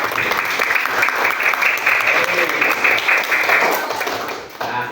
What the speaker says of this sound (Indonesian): Kasih aplaus buat kelompok 1.